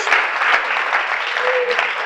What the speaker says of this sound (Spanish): ¿qué os parece si le damos bien fuerte un aplauso al Señor por cada uno de ellos, por todos?